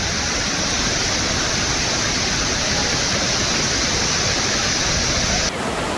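The Hogenakkal waterfall on the Kaveri river roars as a dense, loud, unbroken rush of falling water, steady throughout and close by.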